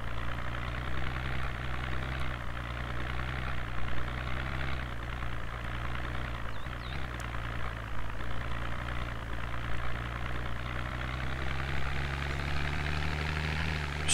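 A car engine idles and runs in the zombie survival game Project Zomboid, a steady low droning rumble that holds evenly for the whole stretch with no talk over it.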